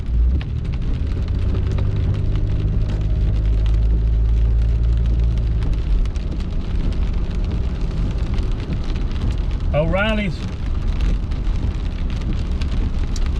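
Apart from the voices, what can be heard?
rain falling on a car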